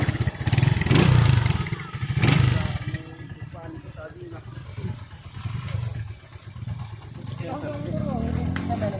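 A motorcycle engine rumbles and revs, rising and falling in loudness, while people talk over it nearby.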